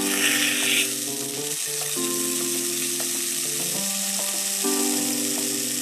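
Veal searing in lard and olive oil for a roast, a loud steady sizzle and crackle of hot fat holding without pause, with a faint tonal hum running underneath.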